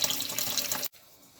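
Tap water gushes steadily from a kitchen faucet as a container fills to overflowing, close and bright, then cuts off abruptly to quiet room tone, with no talking.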